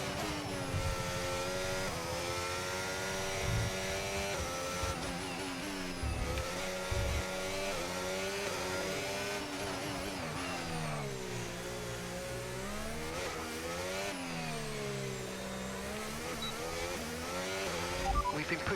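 F1 25 race car on a Monaco qualifying lap with low fuel and soft tires: a steady, loud engine that rises and falls in pitch through repeated upshifts and downshifts, continuous from start to end.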